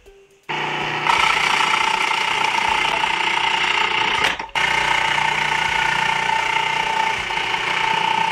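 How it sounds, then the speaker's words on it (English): A food processor runs steadily while grating cucumber, a loud continuous whirring motor drone that starts abruptly, briefly cuts out midway, then resumes. "Continue using the food processor to save on time, and now we'll grate the cucumber."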